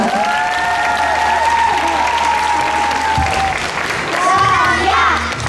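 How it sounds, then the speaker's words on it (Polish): Crowd applause for female competitors at a sports award ceremony, steady and loud throughout, with whistles and cheering mixed in and a brief swell near the end. "Duże brawa dla zawodniczek"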